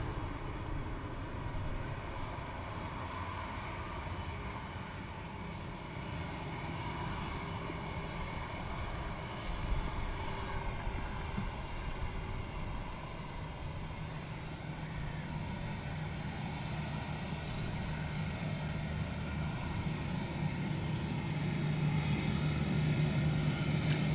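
A British Airways heavy aircraft arriving at Dublin Airport, a low, distant rumble that holds steady for a long stretch and grows slightly louder toward the end, with no voices.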